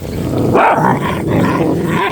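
An adult dog growls and snarls at new puppies in a low, continuous rumble with a few rougher bursts, close by, with no talking.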